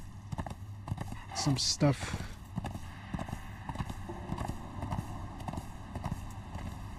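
Horse hooves clip-clop in the video game Conan Exiles, a rhythmic patter of steady hoofbeats under a voice, with a louder burst of talk early on.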